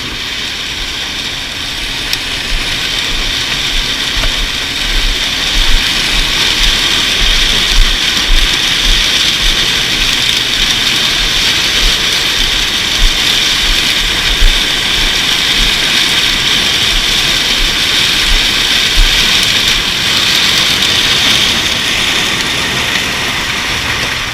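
A corn harvester's large engine, which has had engine problems, roars continuously and loudly at close range, a steady droning hum with a high whine on top, with no voices.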